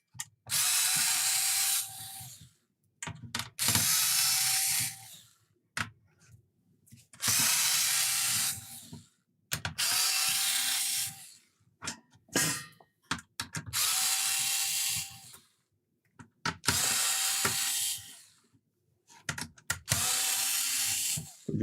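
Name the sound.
electric screwdriver screwing down Amiga 500 circuit board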